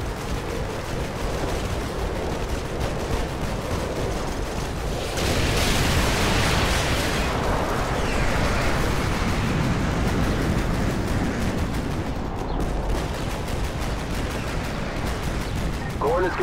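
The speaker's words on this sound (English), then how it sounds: "Artillery inbound." Artillery fire and explosions in Call of Duty: Modern Warfare 2 rumble as a dense, continuous roar of booms and gunfire, loud and sustained, with battle voices mixed in underneath.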